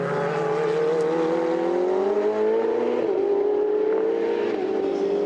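Ferrari Challenge race car in a Trofeo Pirelli race at Valencia, driven flat out, its engine howling loud and steady with rising pitch through the gears and a brief lift before pulling hard again.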